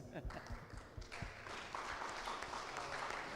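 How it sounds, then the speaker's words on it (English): Audience applause in a lecture hall after a talk on French and Dutch colonialism on St. Martin, starting with a few scattered claps and thickening into a steady, fairly faint patter. "Let's applaud them"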